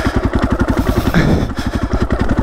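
A KTM 500 motorcycle with a flywheel weight and smart carb idles along off the throttle, its single-cylinder engine thumping in a steady, fast, loud pulse close by.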